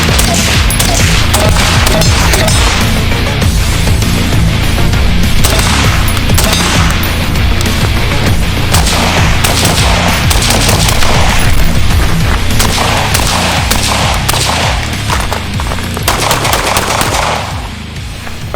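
Continuous rapid gunfire from an IWI X95 Tavor rifle fitted with a CGS Helios QD suppressor, a loud dense barrage of shots running steadily through the whole stretch at a range.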